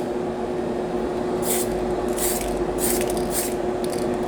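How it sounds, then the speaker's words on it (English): An airbrush or spray can lays a thin dusting coat of paint on a Tamiya Comical Grasshopper model kit, heard as several short hissing bursts over the steady drone of a nearby fan. "I'm going to be spraying into the fan"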